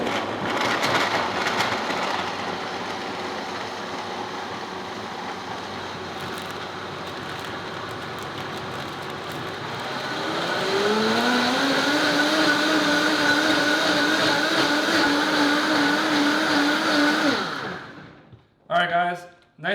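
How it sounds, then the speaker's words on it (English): A strong blender whirs steadily for about seventeen seconds while mixing a bloating remedy drink, its motor pitch rising and settling midway as the load changes, then cutting off abruptly, followed by a couple of brief knocks. "So let's start blending this thing."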